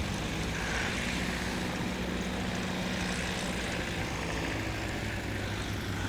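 Propeller engine of a STOL airplane roars steadily during short takeoff practice at a Louisiana swamp STOL event, a loud continuous drone with slight swells in power throughout.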